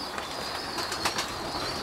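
Young racing pigeons at a loft make soft cooing and brief wing flaps amid steady ambient hiss, close by and fairly quiet, with no talk.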